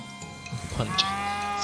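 A demonic hell calf in the video game West of Loathing lets out a short, distorted bleating moo over a steady droning game soundtrack, with a brighter burst near the middle.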